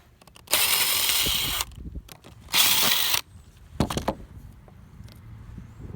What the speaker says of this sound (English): I've got to pull some screws and nails out of the old boards